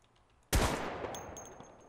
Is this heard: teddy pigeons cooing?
no